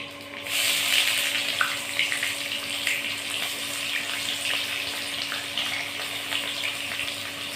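Onions and fenugreek fry in hot oil for a fish curry, hissing in a steady, close sizzle that runs throughout.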